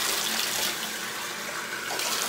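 Water runs steadily from a tap into a sink while a cup is washed, a close, continuous splashing hiss that stays even throughout with no voices over it.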